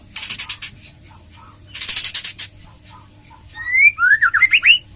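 A male white-rumped shama (murai batu) kept for breeding sings loudly and close, with rapid rattling bursts followed by sweeping, rising whistled notes, over faint background hum.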